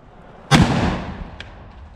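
A homemade concrete cannon fires one shot outdoors. It is a single loud, sharp boom that rolls off in a fading rumble over about a second.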